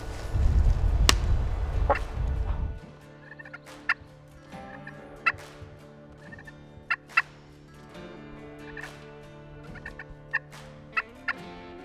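A wild turkey gobbler gobbles repeatedly at a distance during a Mississippi turkey hunt, sharp rattling bursts spaced every second or two, after an opening stretch of low rumbling noise.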